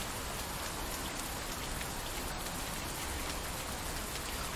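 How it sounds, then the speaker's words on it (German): Steady rain pours down in The Bus driving game, a dense, even hiss of drops drumming on surfaces that stays constant throughout, with no voices over it. "Warum regnet denn das jetzt hier?"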